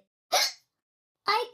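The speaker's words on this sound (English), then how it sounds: "I get the hiccups." A cartoon character in the mobile word game Endless Wordplay hiccups twice, each a short loud vocal burst separated by about a second of silence, sounding like a childlike voice.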